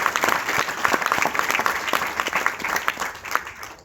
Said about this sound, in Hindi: एक बार दिल खोल के दोबारा से चाहूंगा जोरदार तालियां सभी मेरे गुरुओं के लिए